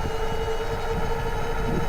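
A KBO K2 folding electric bike runs on throttle alone in full electric mode, its motor giving a steady, loud whine with a constant tone over road and wind rumble.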